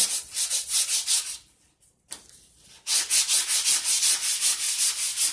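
A tile edge is hand-polished with rapid rhythmic back-and-forth rubbing strokes, close and loud, with a short pause in the middle before the steady scraping resumes.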